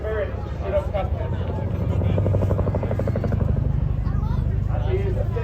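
A Chinook helicopter at the Blackpool air show gives a loud, continuous rotor thump and engine roar, while an announcer talks steadily over it through a public address system.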